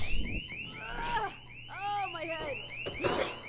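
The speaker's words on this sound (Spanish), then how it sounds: "Si les causas daño, se activarán alarmas de zombies que atraerán zombies." A zombie alarm in the video game Dead Island 2 sounds in rapid, repeating electronic chirps that rise and fall, continuous and moderately loud amid game noise.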